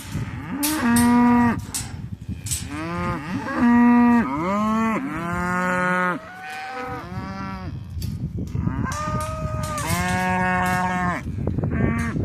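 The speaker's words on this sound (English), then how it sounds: "So here's one of our belted Galloway cows." A belted Galloway cow moos repeatedly and loudly up close, drawn-out calls with short pauses between them and no talking.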